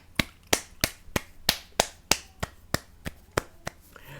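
Slow, evenly spaced single claps ring out one after another, about thirteen sharp crisp hits in a steady rhythm, close and fairly quiet with no voices.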